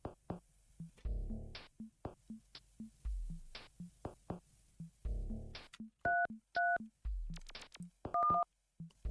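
Telephone keypad dialing tones in the video game Yume 2kki, a series of short beeping dual-tone presses in irregular bursts with soft clicks between them, loud and close.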